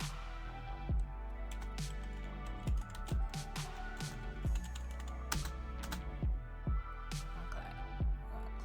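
A computer keyboard is typed on in a series of distinct, fairly close clicks and taps, spaced irregularly over several seconds with no talking.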